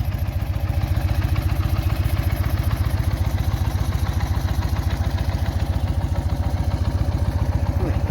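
A motorcycle engine idles steadily close by, a rapid even putter with a faint rattling clatter layered over the continuous low thrum, tractor-like.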